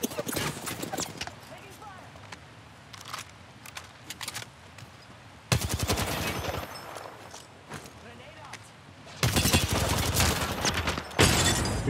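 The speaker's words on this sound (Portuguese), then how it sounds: "Lá perto do canhão, quase, esses tiros." Rapid bursts of gunfire in Apex Legends crackle in repeated volleys, with louder stretches of shooting near the middle and end, under occasional quiet talk.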